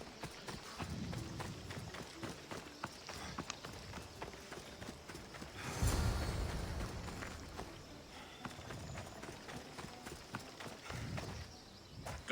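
Horse hooves clip-clop in a steady, quick gallop during a race in Assassin's Creed Odyssey, with soft game ambience and a brief swell of noise in the middle.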